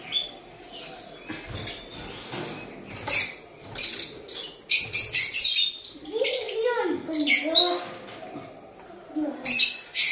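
An egg-bound pet lovebird gives sharp, high chirps and squeaky calls in irregular bursts, close by, with a person's voice talking underneath at moments.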